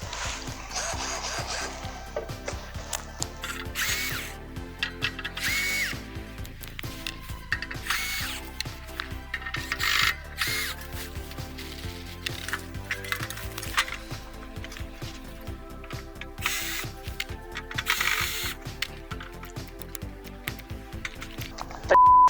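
A cordless screwdriver unscrewing the casing of a Gerrard MMA-200 Home Line welding inverter, with repeated short whirring and ratcheting bursts separated by pauses, partly over background music.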